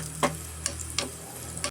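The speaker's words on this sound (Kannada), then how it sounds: "ಫ್ಲೇಮ್ ಕಡಿಮೆ ಇಟ್ಕೊಂಡು ಇದನ್ನು ಸ್ವಲ್ಪ ಚೆನ್ನಾಗಿ ಫ್ರೈ ಮಾಡ್ಕೊಳ್ಳೋಣ" Coriander seeds and cumin fry on a low flame with a soft, steady hiss under a low hum, with three or four light spoon taps against the pan over a couple of seconds.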